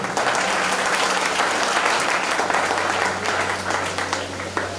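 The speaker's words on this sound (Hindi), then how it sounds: "खुद के लिए जोरदार ताली बजा दो।" Loud, sustained audience applause at a design institute's tenth anniversary celebration, many hands clapping in a dense, even roar that holds steady from start to finish.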